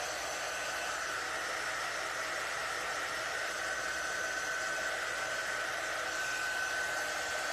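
A hair dryer blows steadily and close on a handmade rag-tie Christmas craft, giving a constant whooshing hiss with no talk over it.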